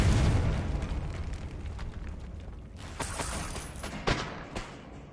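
Video-game Confringo spell explosions go off in quick succession, a loud burst at the start and then sharp blasts and pops near the end, with no talking heard.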